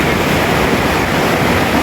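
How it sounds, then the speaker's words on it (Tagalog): Large ocean waves roar in a dense, unbroken wash of surf, loud and close, with no voices. "Laki na nga alon"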